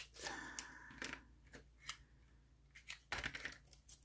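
Scissors cutting paper for a handmade scrapbooking card, quiet close snips in short separate bursts, a final cluster of rapid cuts near the end, no speech.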